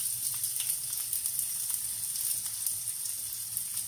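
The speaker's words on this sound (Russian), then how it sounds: "Лук должен получить свой запах жареного лука." Chopped onions fry in heated oil in a pan, a steady bright sizzle with faint crackles running evenly throughout, no voices.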